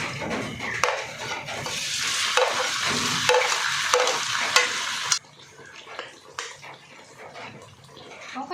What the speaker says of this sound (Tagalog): Painit na ako ng mantika. Unahin muna natin ang hot dog.